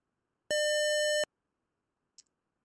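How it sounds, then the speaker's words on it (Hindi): An Arduino piezo buzzer driven by the tone() function gives a single steady electronic beep of under a second, loud and clear with nothing else around it, followed by a faint tiny click. "अब वो दो सेकंड के बाद ही आवाज़ करेगा"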